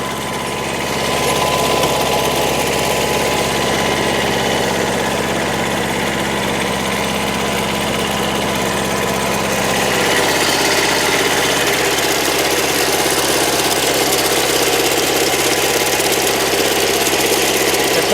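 A large diesel tractor engine runs steadily nearby during a potato harvest, a loud continuous rumble and drone that shifts slightly in pitch midway.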